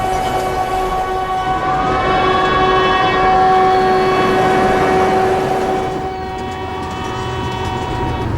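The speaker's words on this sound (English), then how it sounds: "To get there, they created this little narrow-gauge railway." A Kalka-Shimla narrow-gauge railway train rolls along with a steady loud rumble, and a sustained horn tone holds through most of the passage.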